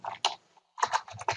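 Someone types on a computer keyboard in two quick bursts of close, crisp key clicks separated by a short silent pause.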